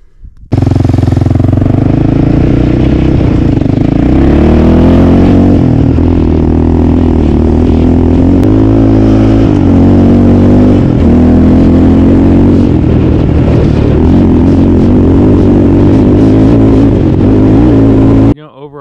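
A 2014 Yamaha Raptor 700R ATV engine roars loudly and close, revving and accelerating in repeated surges with a rough, throbbing low growl that runs nearly the whole time before cutting off abruptly.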